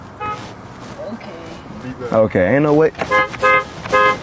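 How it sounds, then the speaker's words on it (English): A car horn honks in a series of sustained blasts at close range, short separated toots following a longer cluster, while people talk over and between them. "I was honking at the people behind me"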